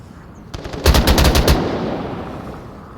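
A quick burst of rapid gunfire in the VR game Onward during a competitive match, several sharp shots in a tight volley, followed by a fading echo tail against a quiet background.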